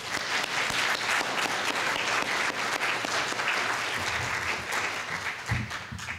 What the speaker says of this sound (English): let us all give a round of applause to General Watson and welcome him to Norfolk